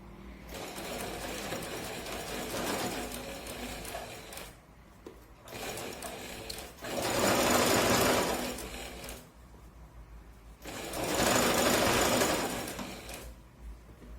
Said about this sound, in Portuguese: eu vou começar a costurar com retrocesso desde aqui do